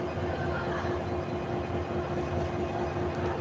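Brahmaputra Express train standing at platform two of Kamalapur railway station in Dhaka, giving off a constant low rumble with a steady droning hum throughout.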